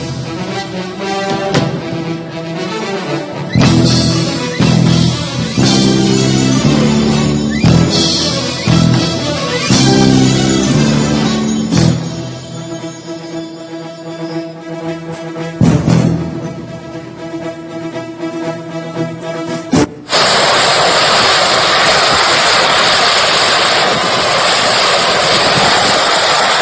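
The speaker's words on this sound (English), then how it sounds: "So that's the sound of the engine" Loud engine running with a deafening, tonal drone and shifting harmonic whine, sustained throughout and turning into a harsh broadband roar near the end, no voices.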